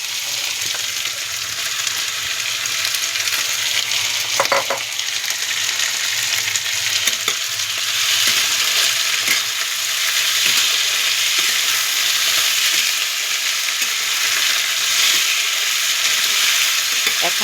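Goat liver and fat frying in hot oil for a homestyle Bengali dish with soybean chunks, a steady loud sizzle with occasional stirring clinks, continuous throughout with no talk.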